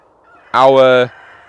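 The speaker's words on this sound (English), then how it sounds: "You can hear the chickens going crazy in the background," A single loud, brassy honk, like a goose or other fowl, rings out for about half a second against a quiet background.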